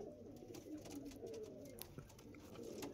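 Andhra Lambadi pigeons in a loft, low soft cooing murmuring continuously, faint and somewhat distant beneath a light background hiss with a few clicks.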